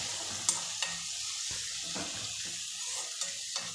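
Tomatoes and brinjal sautéing in a pan with onion and okra for a Pongal vegetable tamarind curry, a steady soft sizzle with a few sharp clinks of a spoon against the pan.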